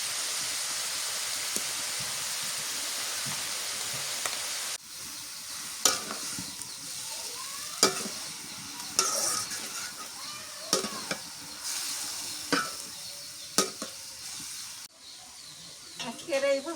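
Spices and garlic paste frying for a chital fish dish, an even loud hiss for several seconds that drops to a quieter sizzle marked by repeated sharp scrapes and clinks of stirring, close by.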